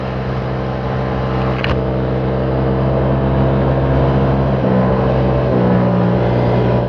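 Motorcycles ridden in a group in a line, a constant loud engine drone with strong wind rumble from a riding perspective, steady throughout without spoken words.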